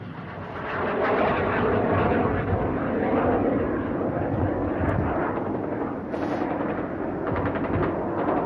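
Loud, continuous jet engine roar close by from an A-4B Skyhawk taxiing, a broad rushing noise with faint crackling bursts toward the end.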